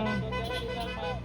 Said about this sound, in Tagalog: At kung naririnig nyo yung mga sasakyan bumubusina pag dumadaan sila dito po